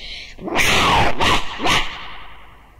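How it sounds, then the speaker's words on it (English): A huge dog in a fairy tale story barks loudly in three sharp bursts, close and prominent, with narration-style sound around it. "the huge dog jumped on him and bit his leg"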